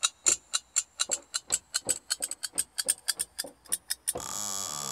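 Clock ticking effect from a Casio CT-X5000 keyboard: a run of sharp, evenly spaced ticks, about four per second, clear and close, giving way at the end to a sustained bright chime-like tone.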